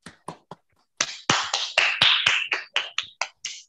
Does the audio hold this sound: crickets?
no